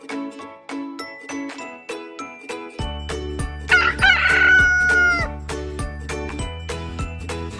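A rooster crows once, loud and close, its long rising-then-falling call riding over light, tinkling background music with a steady beat.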